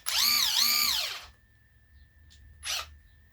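Small hand screwdriver backing screws out of the rear panel of a Panasonic amplifier: a loud, close squeak in a two-part pattern, then faint metallic ticks and a short scrape, with a thin steady whine underneath.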